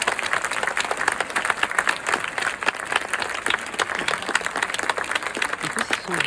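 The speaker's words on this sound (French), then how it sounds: "un tonnerre d'applaudissements pour François Détrac" A theatre audience gives François Détrac a thunderous round of applause, dense continuous clapping with crowd voices and cheers mixed through it, staying loud throughout.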